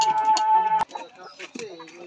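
Layer hens being brought in for delivery give a few close, brief clucks and squawks over a short, restless stretch.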